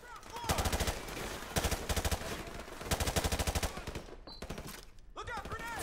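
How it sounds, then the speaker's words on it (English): Machine-gun fire in a video game campaign comes in several loud, rapid bursts of evenly spaced shots, close and dominant, with pauses between volleys and a voice briefly heard. "I don't even know where they're shooting me from"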